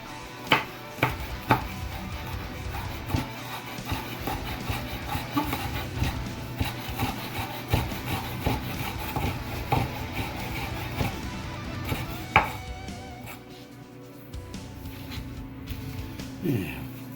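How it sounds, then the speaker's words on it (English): A knife chops green onions for a garnish on a cutting board in a home kitchen: a few sharp, separate taps, then quieter irregular chopping under low background noise. "Might as well chop up some green onions for garnish here."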